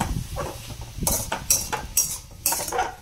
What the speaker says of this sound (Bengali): এবার দেখো শাকটাকে এবার ভাজবো